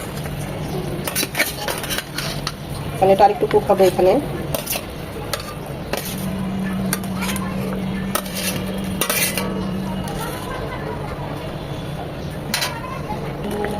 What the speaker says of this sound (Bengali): এখন দিয়ে দেবো আমরা যে বেগুনগুলো ভেজে নিয়েছি